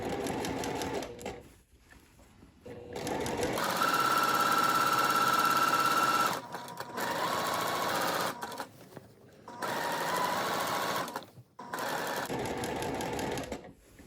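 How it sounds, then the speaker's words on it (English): A sewing machine runs a quarter-inch seam allowance along a skirt pocket's French seam in loud, close bursts of steady motor hum and needle clatter, several runs separated by brief stops, with no talk. "I'll sew with a 1/4 inch seam allowance"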